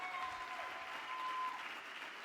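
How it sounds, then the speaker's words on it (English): A seminar audience in Aruba applauds steadily, a dense sustained round of clapping from a standing crowd with faint tones threading through and no pauses. "stand on our feet and give Mark Benson the proper round of applause he deserves"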